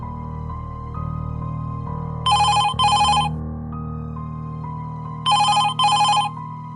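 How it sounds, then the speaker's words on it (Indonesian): A telephone rings with two pairs of shrill electronic trills, separated by a pause, over a low steady background melody. "Suara telepon itu membuat Joe tersentak kaget"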